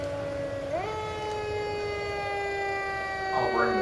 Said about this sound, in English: I'll bring the sirens up at